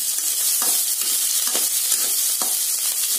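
Curry leaves sauté in hot oil in a pan for a sprouted horse gram gravy, a steady bright sizzle with soft scraping stir strokes at regular intervals, close and loud, without any voices.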